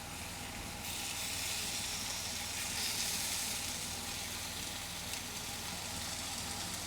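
Pork loin sears in a hot pan, giving a loud, dense, continuous sizzle and hiss that swells slightly after the first second and then holds steady up close, with no talking.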